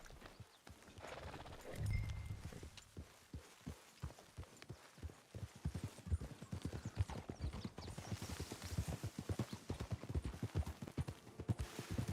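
A horse gallops in the video game Red Dead Redemption, rhythmic hoofbeats building from sparse thuds to a fast steady clip-clop, fairly close and alone without talk.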